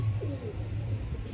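Pigeons cooing low and soft in a short, quiet burst over faint background hum, with no talking.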